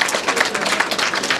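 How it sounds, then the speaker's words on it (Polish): Audience applause at a Polish culture festival, a dense patter of many hands clapping steadily and fairly faintly, alone without voices. "Bym bardzo prosił Państwa o doping, czyli o brawa dla pani."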